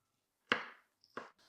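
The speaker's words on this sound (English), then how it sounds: "Now, I chop a little bit of onion and half a clove of garlic." A kitchen knife chopping onion and garlic on a cutting board makes two crisp, close knocks about two-thirds of a second apart, each fading quickly into quiet.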